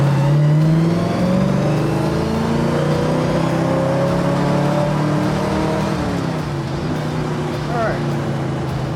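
The engine of a 1958 Corvette convertible revs up loudly and steadily, its tone rising and then easing back, with a continuous close mechanical roar throughout.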